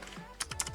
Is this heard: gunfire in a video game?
no